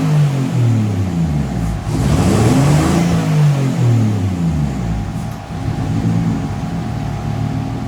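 A Mercedes W203 with a 3.2 turbo engine on new engine management, idling with a deep, loud burble, then revving up several times in rising and falling sweeps.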